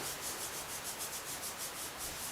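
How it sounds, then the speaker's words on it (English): Sand, 50 grams of it, is sprinkled onto carpet ahead of a Kirby vacuum test, a soft continuous hissing patter that pulses gently and stays fairly faint throughout, with no voices. "So we'll just sprinkle our 50 grams of sand down."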